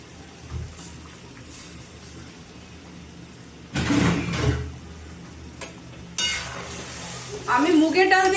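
Garlic cloves and lentils frying in a pan, with quiet crackling followed by louder bursts of sizzle and stirring as the ingredients are added, and a sharp sustained sizzle near the end.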